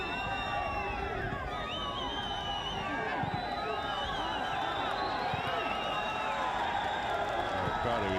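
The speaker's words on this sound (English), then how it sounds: "Crowd are enjoying this." Football crowd at a Paarl United versus Maritzburg United match, a steady roar of cheering and whooping that fills the whole stretch, with a commentator's voice running over it.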